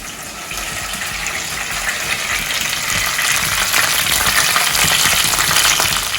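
Curry leaves and garlic hit hot oil in a pan for a potato fry, giving a loud, steady crackling sizzle that builds slightly and continues without talk.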